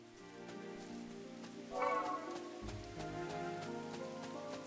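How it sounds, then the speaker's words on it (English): Steady rain patters over a layered orchestral game score in the fantasy RPG Chained Echoes, with a swelling musical accent partway through and no voices. "So we're getting some rain, so that's promising for Tormund."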